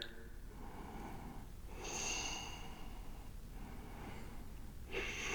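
Breathing during a yoga hold, with soft audible breaths and a couple of sharper snort-like inhales close to the mic, quiet overall with no talk.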